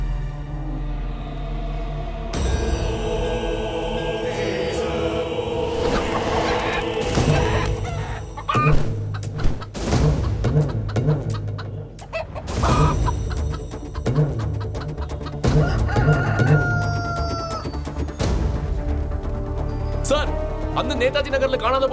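Chickens cluck and a rooster crows among farmyard fowl, with the calls scattered through a dense mix under someone speaking most of the way through.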